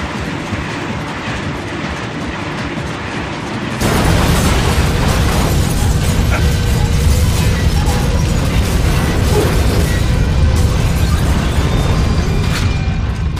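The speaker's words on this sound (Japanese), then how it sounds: "脱線するぞ。" A train in the Vanquish video game derails and crashes: a steady rumbling rail clatter suddenly gives way to a loud, dense roar of grinding and scraping that continues to the end, with no talk.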